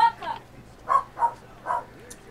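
A dog in Metro Exodus gives a few short, spaced barks, three or four sharp yelps at moderate loudness, heard against a quiet background.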